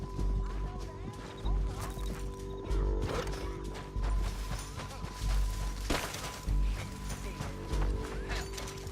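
Horses in the video game Red Dead Redemption 2 whinny and clop along amid game sound effects and crashes, with recurring loud bursts throughout and a voice speaking at times.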